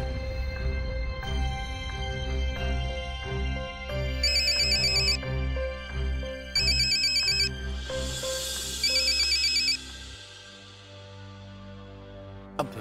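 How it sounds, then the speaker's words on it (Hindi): An electronic phone ringtone sounds on an outgoing call in a Hindi TV drama scene. Three or four steady, bright melodic bursts ring out over a continuous music bed and stop after about ten seconds, with no talking. "अब मैं फोन कर रहा हूं तो वो फोन उठाएगी थोड़ी।"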